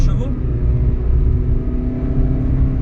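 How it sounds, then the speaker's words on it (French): A 460-horsepower V8 engine of a Ferrari California rumbles low and steady, idling or cruising with a deep throb, while faint voices talk over it. "le son du V8, c'est vraiment le kiff."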